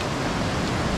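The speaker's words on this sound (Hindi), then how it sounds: "झरना," A waterfall on the Rupin Pass trek in the Himalayas of Himachal Pradesh, a dense, steady rush of falling water that fills the air, loud and unbroken.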